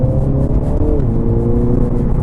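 A Mini Clubman JCW ALL4 with four-wheel drive pulls along under steady engine drone, its pitch rising and dipping slightly as the car drives, loud and close throughout.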